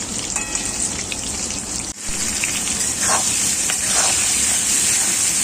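Onions sizzle steadily in hot oil for a mutton curry, a dense, close, continuous frying hiss with a brief dip near the two-second mark before it resumes at full loudness.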